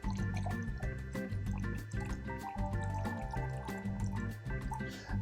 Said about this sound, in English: And then we're gonna add in some mango orange juice.